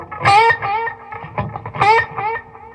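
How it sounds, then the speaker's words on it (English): Electric guitar choke bends, each note bent upward and abruptly cut off, played twice in a repeating phrase with a distorted, overdriven tone. "You have what's called a choke bend"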